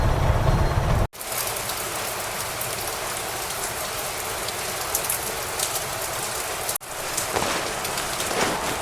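Heavy rain pours down steadily on an auto-rickshaw in a dense, continuous hiss, briefly cut off twice.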